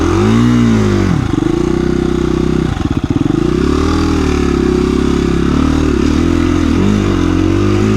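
A KTM 350 EXC-F off-road motorcycle engine roars up close, revving and bogging through rises and dips as it climbs rough terrain, loud and continuous with no voices.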